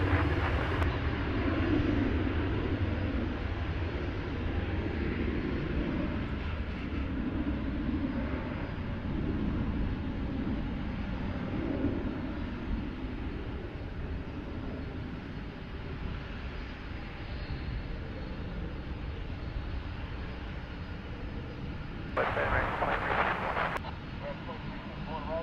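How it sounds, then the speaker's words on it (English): An Embraer E-175 jet takes off at night at Dallas Fort Worth airport, its engines a steady distant roar and rumble that swells slightly near the end, with faint voices in the background. "let's catch this E-175 takeoff"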